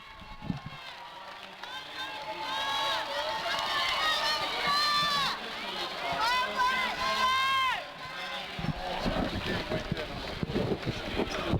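Jam-packed crowd at the 2001 Central Mass girls basketball final, a steady loud roar of voices and cheering with whistling, shrill shouts rising in the middle, and talk mixed throughout.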